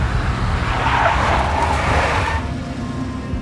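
A big black Mercedes in the Max Payne video game skids loudly, its tires screeching over a steady engine roar for about two seconds before the sound drops to a lower rumble.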